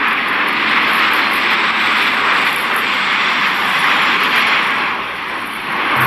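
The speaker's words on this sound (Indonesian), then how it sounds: "Ada pesawat militer dengan dua baling-baling" An Osprey military aircraft with two propellers gives a loud, steady engine roar that holds throughout, dipping slightly near the end.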